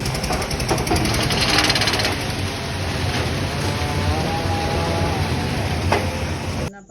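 A construction machine runs during the pouring of a concrete roof slab for a house, giving a loud, continuous rattling drone that holds steady up close for several seconds before cutting off abruptly at the end.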